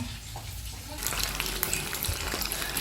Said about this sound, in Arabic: انا اول مره اقلي سمبوسه